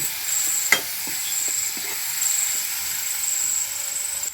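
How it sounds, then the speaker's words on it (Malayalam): Chilli powder and spices sauté in a pan for a quick egg curry, a soft steady sizzle with a few light scraping stirs and a sharp clink near the start. "നമുക്കൊന്ന് വഴറ്റി കൊടുക്കാം കേട്ടോ."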